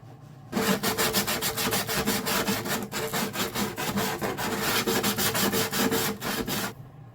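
Steady rhythmic rasping strokes smooth the sharp edge of a sassafras acoustic guitar body, loud and continuous for several seconds with quick back-and-forth scraping, then stopping abruptly.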